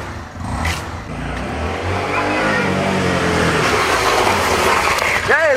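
A motorcycle engine revs steadily close by, with a continuous roar that builds slightly over several seconds, ending with a short whistling sweep.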